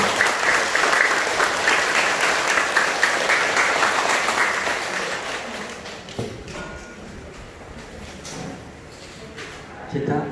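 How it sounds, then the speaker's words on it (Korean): A crowd claps steadily for several seconds at a Sunday Buddhist service, then the applause thins and fades, with a few scattered thumps near the end. "찬탄의 박수 부탁드리겠습니다."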